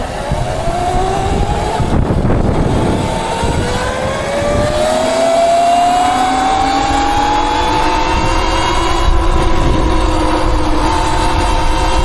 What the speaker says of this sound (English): Alright, waiting for this car to turn and then we're good.